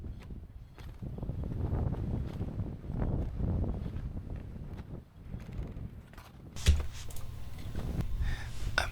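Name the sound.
wind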